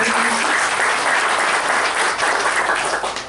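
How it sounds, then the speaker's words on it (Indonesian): A church congregation claps together in steady, dense applause that stays loud and even for the whole stretch, with no voices rising above it. "Mari kita beri tepuk tangan."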